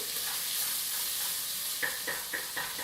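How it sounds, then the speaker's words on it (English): Red onions sautéing in a pot give a steady hiss and sizzle, then a few quick stirring scrapes near the end. "While that gets all sauteed."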